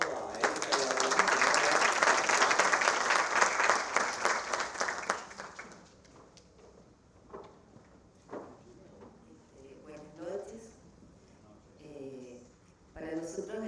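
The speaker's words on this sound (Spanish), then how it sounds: "vamos a darle un aplauso a Erika y a Orlando." Applause from an audience at a cinema club screening of a 2024 film, loud sustained clapping for several seconds that fades, followed by voices talking.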